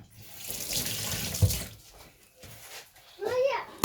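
Water runs from a tap during handwashing, a hissing splash that swells and fades in bursts, mixed with a voice and other speech.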